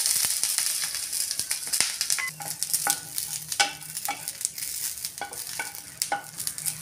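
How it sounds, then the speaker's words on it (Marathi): Five or six green chilli pieces, roasted after peanuts, stirred and frying in a pan: a steady close sizzle broken by repeated sharp clicks and scrapes of a spatula against the metal. "आता मिरची भाजायला टाकली."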